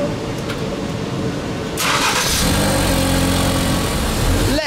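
A car engine cranks briefly, then catches and settles into a steady, loud running hum, close by.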